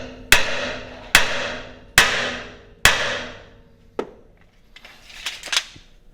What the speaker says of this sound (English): I'm just going to take a good sized hammer and bend them down a little bit.